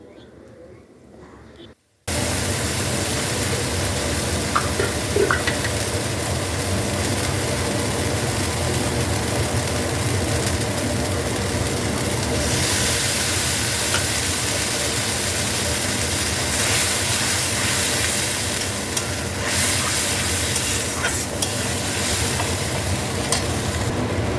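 Ginger, tomato and cumin paste for a katla fish and potato curry hits a hot pan after a brief quiet moment, then sizzles and fries loudly and steadily with occasional stirring scrapes throughout.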